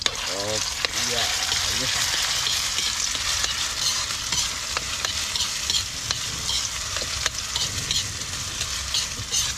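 Food frying and being stirred in a pan over a gas flame, with a steady loud sizzle throughout and repeated scraping stirs, while people talk briefly in the background.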